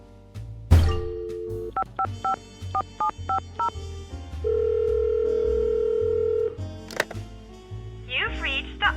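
In a Nancy Drew video game, a phone number is dialed: a click, then a rhythmic run of about eight touch-tone beeps, a steady ringing tone, and a final click. Someone speaks briefly near the end.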